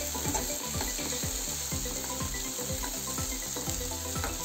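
Cooked cluster bean (gavar) vegetable is stirred in a pan on the stove after resting under a lid, a steady faint sizzle with soft scraping strokes repeating through the clip, no voices.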